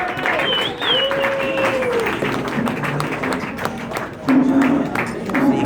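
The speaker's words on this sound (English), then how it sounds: "Clap it up for Marty Shelfin right there" Comedy club audience clapping and cheering after a stand-up set, a moderate burst of applause with whoops beneath a host talking over it.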